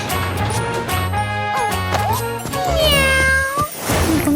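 Cartoon cat meowing in a children's educational airplane-safety story, several bright, close meows over a light musical backing with a tinkling jingle.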